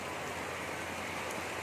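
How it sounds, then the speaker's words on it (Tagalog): Steady heavy rain pours down on an outdoor vendor's selling spot in a dense, constant hiss, close and even throughout, with no voices. "Lakas ng ulan, no?"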